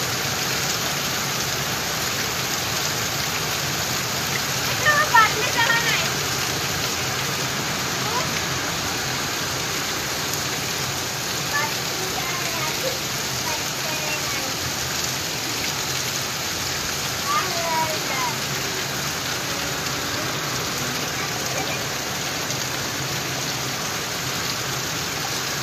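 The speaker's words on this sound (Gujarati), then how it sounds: "જોરદાર વરસાદ" Heavy morning rain pours down in Palanpur, a dense, continuous hiss of water that stays steady throughout, with a faint brief voice or knock partway through.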